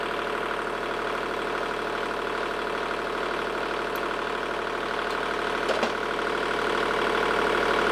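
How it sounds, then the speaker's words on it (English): A marine diesel engine idles with no load, a steady loud drone with a regular knocking pulse running unbroken throughout, close to the microphone. "I'm not a huge fan of running diesel engines with no load on it."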